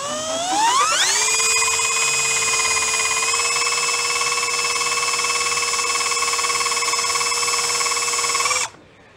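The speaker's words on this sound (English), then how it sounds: "So I'm going to drill some holes just through the top skin of it" A drill bit bores through the top metal skin of a Cushman floor panel during fabrication, rising in a whining pitch sweep and then holding a loud, steady high-pitched screech for several seconds before cutting off abruptly.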